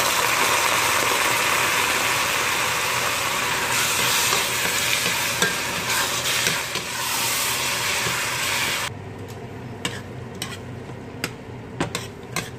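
Ground pork fries loudly in a pan with sautéed garlic and onion, a dense continuous sizzle for about nine seconds that then drops to quieter sizzling with sharp scraping stirs.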